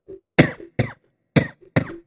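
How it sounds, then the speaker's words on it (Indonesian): A person recovering from Covid-19 coughs repeatedly during chest-clearing exercises: four sharp, close coughs in quick pairs, with small breaths between them and no talking. "Disuruh mengeluarkan batuk terus"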